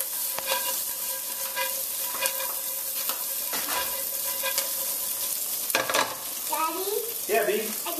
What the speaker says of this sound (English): I'm going to add just about a tablespoon and a half of butter. We'll mix that around.